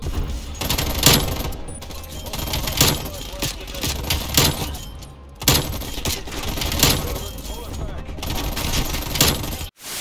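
Sustained automatic fire from a gold Stoner 63 LMG in a video game, loud rapid bursts with brief pauses, shell-like clinks and crackling over a steady game background.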